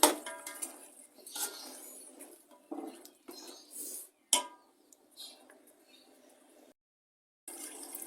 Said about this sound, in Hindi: मटर की भी चिकन के साथ ही भुनाई करनी है